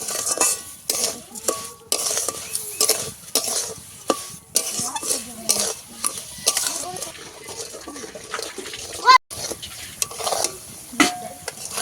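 Spoon stirring sugar in a metal pot to dissolve it, steady scraping and clinking strokes in quick repeated rhythm with faint sizzling underneath, close and clear with no talk.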